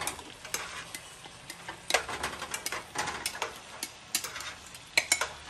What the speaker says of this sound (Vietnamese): Giờ thì mình sẽ xào nấm măng steak các bạn ơi.